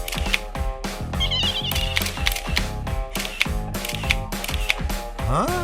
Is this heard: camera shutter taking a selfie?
yes